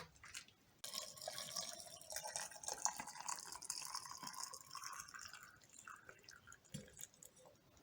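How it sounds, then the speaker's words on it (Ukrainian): Steady trickling and splashing of boiled water poured into glass jars of stuffed peppers, a continuous liquid stream that gradually thins and quiets toward the end. "Заливаємо чистою кипяченою водою."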